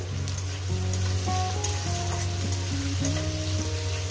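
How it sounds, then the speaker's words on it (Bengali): Chopped onions fry in a pan with a dense, continuous sizzle, close and fairly loud, while a steady hum and a tonal melody run underneath; no one speaks. "পেঁয়াজ কুচিগুলো দিয়ে এগুলো আমি ভেজে নেব"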